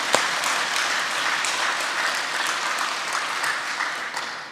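Sustained applause from a large audience at a lecture hall event, a steady, dense wash of many hands clapping that holds evenly throughout and tapers slightly at the end, with no voices.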